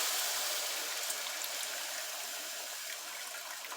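Juice drains from an opened home-canned jar in a steady, soft, hissing trickle of liquid that runs evenly throughout, close and fairly quiet with no talk.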